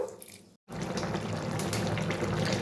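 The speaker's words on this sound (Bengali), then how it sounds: "সামান্য একটু জল দিয়ে দিলাম সবজিটা সিদ্ধ হওয়ার জন্য।" Water pours steadily into a cooking pan of vegetables set to boil, a continuous close splashing stream that begins abruptly after a brief gap and runs unbroken to the end.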